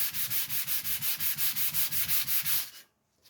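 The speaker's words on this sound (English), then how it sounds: "took me about 10-15 minutes of playing with the sandpaper like this. Flat surface," Sandpaper rubbed back and forth on a flat surface while making guitar building tools, about fourteen quick rhythmic rasping strokes, close and even, then stopping into near silence.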